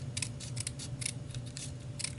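Scissors snip through a blue paper strip for a scrapbook layout, a quick series of close, crisp cuts in an uneven rhythm, with no talking over them.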